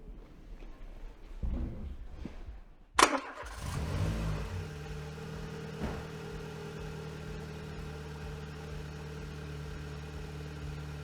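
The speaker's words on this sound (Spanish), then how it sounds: "Motor arrancado" A car engine cranks briefly and catches, then settles into a steady idle hum that runs evenly for several seconds, close and moderately loud with no talk over it.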